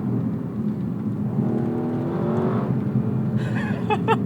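A 2018 Lexus LC500 V8 in Sport Plus mode blips through fast downshifts from inside the cabin: a steady engine drone rises into a brief revving swell, with faint chime-like alerts near the end.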